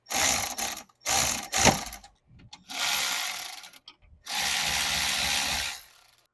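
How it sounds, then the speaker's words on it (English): Ratchet wrench clicking on the rear brakes of a Volkswagen Jetta TDI, several close, loud bursts of rapid ratcheting separated by short pauses, with no talk. "A wrench. on the back side."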